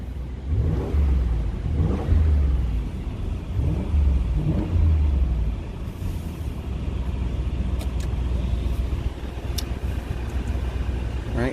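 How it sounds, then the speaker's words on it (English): A 2020 Audi SQ7 with a 4.0-litre V8 revs repeatedly in dynamic mode, heard through an open window: loud, deep exhaust blips rise and fall in a steady rumbling rhythm, then settle into a sustained low drone. "give you a listen to that 4-liter V8"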